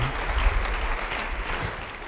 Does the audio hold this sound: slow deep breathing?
no